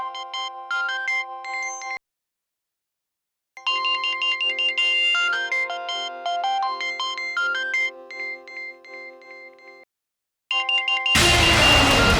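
A melodic phone ringtone plays in repeated bursts separated by short silences, ending with a burst of noisy static.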